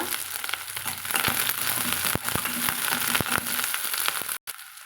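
Onion and curry leaves sauté in hot oil, giving a steady close sizzle broken by sharp spatters and crackles, with no voices.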